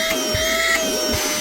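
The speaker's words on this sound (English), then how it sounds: "Let's see what is the power of this vacuum." A cordless vacuum cleaner runs in a steady, loud, continuous whine with a constant high tone, heard alone without talk.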